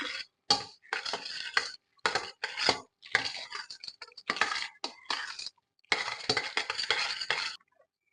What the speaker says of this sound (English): So I'm going to just keep adding the mayo, and then I'm going to mix it up.